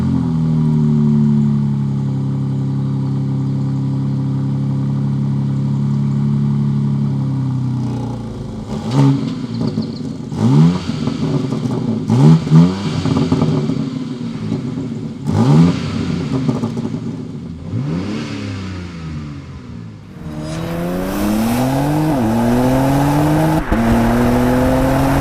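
A 2022 BMW X4M Competition idles with a steady engine hum, then revs and accelerates hard through several loud gear pulls, ending in a strong, rising burst of power; no voices are heard.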